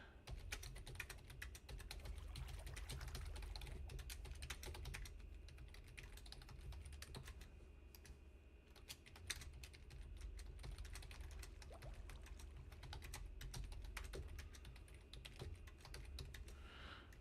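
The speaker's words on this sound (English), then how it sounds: "Oh, I'm typing in all caps." Continuous rapid keystrokes on a computer keyboard during Minecraft play, close and fairly quiet, with uneven bursts of key presses and no talking.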